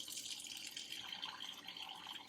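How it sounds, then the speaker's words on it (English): A sink tap runs for hand washing, a soft steady stream of water splashing into the basin with faint trickling, quiet and alone without talk. "So I'm going to go ahead and get the water running."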